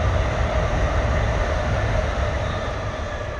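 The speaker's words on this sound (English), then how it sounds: "train." A train rumbles past nearby in a steady, loud roar with low wheel noise, holding level throughout and easing slightly at the end, with no voices.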